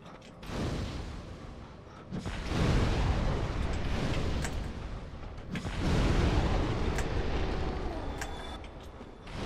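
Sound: fire blast from hounds in Dark Souls video game

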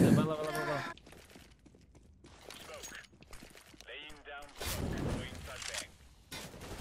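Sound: gunfire in CS:GO video game

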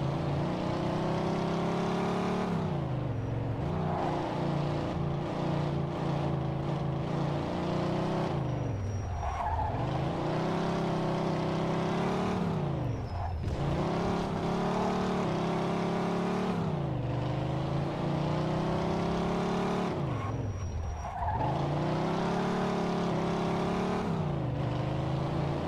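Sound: car engine driving in Mafia 2 video game

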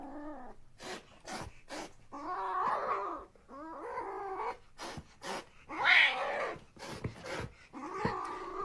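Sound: young serval cat growling

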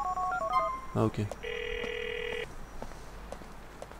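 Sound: phone dialing and ringing in video game GTA IV

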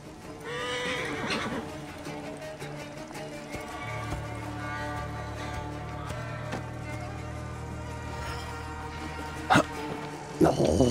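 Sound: horse neighing and galloping in the video game Assassin's Creed Origins

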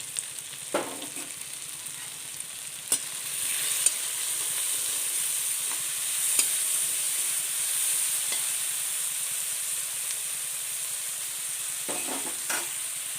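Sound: curry leaves and salt sizzling in pan for bitter gourd

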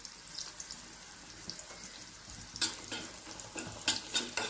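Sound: onions sautéing in a pan for cooker dum biryani

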